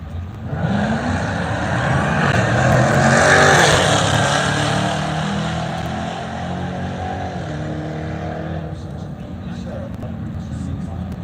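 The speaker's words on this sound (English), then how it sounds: "Force that burnout from the right lane." A drag racing car performs a smoky burnout in the right lane at a drag strip, its loud engine roaring with broadband tire and exhaust noise that swells in the first few seconds and then holds steady, with crowd or announcer voices mixed underneath.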